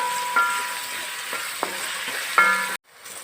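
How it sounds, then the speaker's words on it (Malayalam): Onions, tomato and green chilies fry in a pan for a roasted-coconut chicken curry, giving a steady sizzle with a few spatula scrapes and knocks, close and clear, before the sound cuts off near the end, with no voices. "ഇനി അത് നന്നായിട്ട് ഒരു ബ്രൗൺ കളർ ആവുന്നത് വരെ നമുക്ക് ഇളക്കി കൊടുക്കാം."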